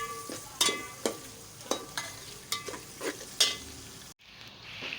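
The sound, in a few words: mixing cumin, chillies, ginger and garlic in a pan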